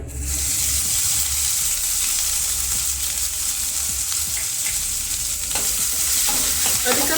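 Ginger and garlic frying in hot oil with cumin and asafoetida: a loud, steady, close sizzle with stirring and scraping running throughout, and no talking.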